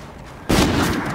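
A single sharp sniper shot cracks out loud and close in Call of Duty Infinite Warfare, bursting suddenly after a quiet stretch and trailing into a short echoing tail.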